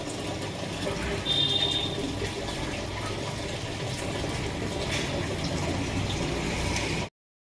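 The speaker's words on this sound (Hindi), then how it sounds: "टब में भर के धो रही थी" Wheat grains are washed in a tub of water, a close, continuous sloshing and swishing of water that runs steadily throughout before cutting off abruptly near the end.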